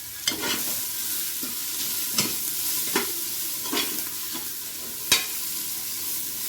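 Oil crackles in a steady sizzle as food deep-fries in a pan during home festival cooking, broken by a handful of sharp scraping stir strokes spaced a second or so apart, fairly close.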